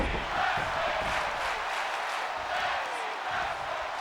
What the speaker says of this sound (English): The crowd loud on their feet.